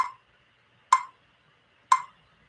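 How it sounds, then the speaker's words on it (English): Three crisp, evenly spaced clicks about one second apart, sharp and isolated against silence, like a metronome ticking at a slow steady pulse. "I'm going to play a metronome, and it's going to be at 60 beats per minute"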